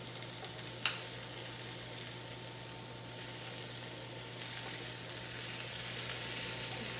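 Onions and peppers sizzle steadily in a pan with plant-based meat for a cheese-steak-style meal, a soft continuous frying hiss with a brief clink near the start and no talking.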